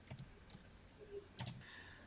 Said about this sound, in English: Let's just type few digits on the phone and continue typing on the computer.